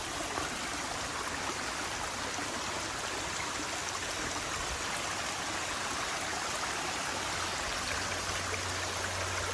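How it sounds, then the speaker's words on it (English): Creek water runs across a hiking trail on the Appalachian Trail, making a steady, close, full rushing wash that never lets up and has no voices over it. "Trail's a creek this morning."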